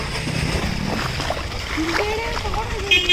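Floodwater in a swollen stream splashing and sloshing nearby, a steady watery rush under ongoing talk, with a few higher voice-like tones near the end.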